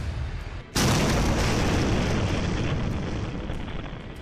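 A missile strike explodes at Dimona, a sudden loud blast hitting after a quieter moment and then rumbling on as a long, dense roar that slowly fades.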